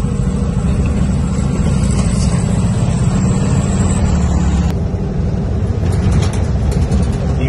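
A 1965 VW Beetle on the move, its air-cooled engine giving a loud, steady low rumble close up throughout, with no talking.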